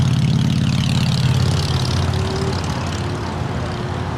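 An airliner touches down on runway 24 Right on the north side of LAX, its loud, close jet-engine roar sustained throughout before easing slightly.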